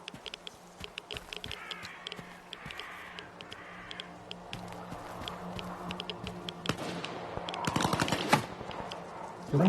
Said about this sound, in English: there is a serious gunfight going on up there.